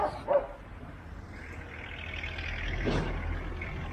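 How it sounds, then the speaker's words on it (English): Dogs bark in the back streets of Prilep, Macedonia, with a couple of sharp barks at the start and a later yelp, mid-distance over steady street and traffic hum. "Dogs going wild"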